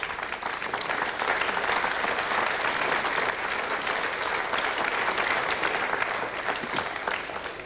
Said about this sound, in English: you hear the applause and the happy faces